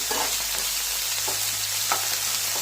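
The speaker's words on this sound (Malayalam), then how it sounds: "പഴുത്ത തക്കാളി എല്ലാം കൂടെ അരിഞ്ഞിട്ട് ഒന്ന് വഴറ്റുകയാണ്" Onion and chopped ripe tomato sauté in a pan with a dense, constant close-up sizzle broken by a few soft stirring scrapes.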